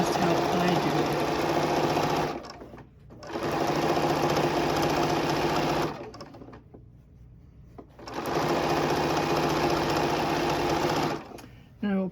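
A sewing machine stitches binding around a quilt in three long, loud, even runs of rapid mechanical whirring, each separated by a short pause.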